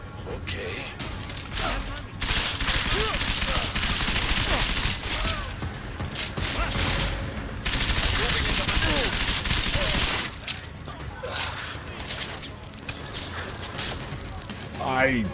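Gunfire in Deus Ex: Mankind Divided comes in dense, loud bursts, trading off with quieter gaps over game sound, while a player talks.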